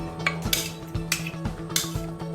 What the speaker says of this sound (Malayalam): 1 ടേബിൾ സ്പൂൺ കൊണ്ട് ചെറുതായിട്ട് ഇളക്കി കൊടുക്കാം